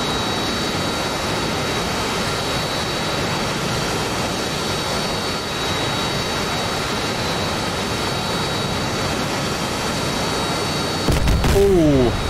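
A jet aircraft with vectored thrust nozzles flying in a video game, a steady loud engine roar throughout with a sudden burst of sharper whooshing noise near the end.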